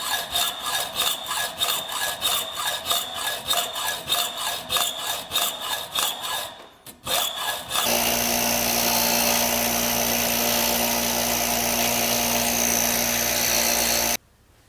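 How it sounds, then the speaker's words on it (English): A drill bores holes through metal sheet, with a cleco fastener holding the first drilled pilot hole in place. A rhythmic rasping grind comes first, then a steady, loud, continuous drilling whine for about six seconds before it stops abruptly. "hold the first drilled hole with a cleco and drill the second hole"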